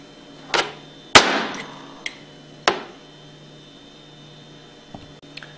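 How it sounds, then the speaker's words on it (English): A hammer taps a screwdriver blade against the steel casing of a seal in a Hypro roller pump housing, giving a few sharp metallic knocks spaced irregularly, close and fairly loud, with quiet pauses between them. "place it against the inside of the steel casing of the seal and tap it out with a hammer"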